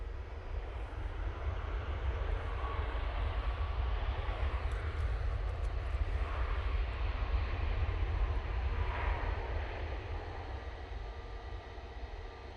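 A Ryanair business jet at Manchester Airport, its engine noise a steady, fairly loud broadband roar that holds evenly for the whole stretch with no talk over it.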